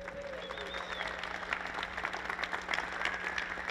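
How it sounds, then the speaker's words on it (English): Round of applause from a conference audience at a PE Institute event, a steady and fairly faint patter of clapping with a low hum underneath and a brief voice near the start. "Give them a round of applause."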